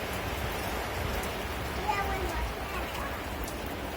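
Steady rain falling outdoors on a wet day, an even hiss of droplets heard close and continuous, with no clear talk over it.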